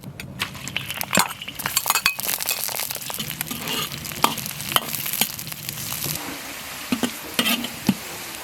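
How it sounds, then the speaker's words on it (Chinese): Scallion, ginger, garlic, onion and coriander roots fry in hot oil to make sesame-flavoured oil, a crackling sizzle broken by repeated clinks and scrapes of a utensil against the pot and the occasional glassy chink. "炸香油，准备了一点葱姜蒜"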